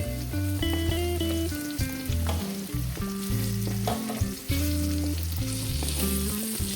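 Ivy gourd (kovakkai) cooking in a pan on a low flame, giving a soft, steady sizzle with occasional stirring, set under prominent background music.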